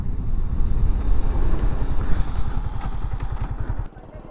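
A Yamaha R15 V3 motorcycle engine runs close by with a steady pulsing rumble and wind buffeting, then drops quieter near the end.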